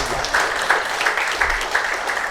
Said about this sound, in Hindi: तो पहले तो आप लोग अपने लिए ताली बजाइए